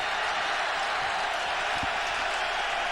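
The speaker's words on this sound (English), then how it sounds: "the crowd on its feet" Stadium crowd at a 2005 Bears vs Redskins NFL football game on its feet for a third down, a steady, dense roar of cheering and noise sustained throughout with no clear breaks.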